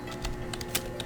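Rapid keystrokes tap on a computer keyboard while a create table command is entered, a quick close run of light clicks with one sharper press near the end.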